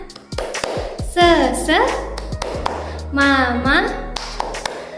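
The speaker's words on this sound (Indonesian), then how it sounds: "Ayo kita tepuk semangat sama-sama" A class of children claps a rhythmic cheer routine together, sharp group claps in bursts mixed with loud chanting voices.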